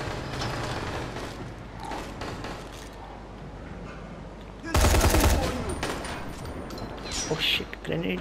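Gunfire in the video game Dying Light The Following on PS4, with a loud burst of rapid shots midway and scattered shots later over ongoing game noise and a speaking voice.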